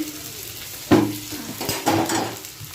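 Cauliflower and potatoes frying in a pan, a close steady sizzle broken by a few sharp stirring knocks and scrapes against the metal.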